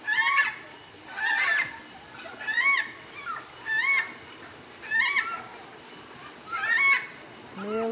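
A blue parrot-like bird at the Parque das Aves in Foz do Iguaçu gives loud, harsh, repeated squawking calls in regular bursts about once a second, fairly close and clear above faint background noise.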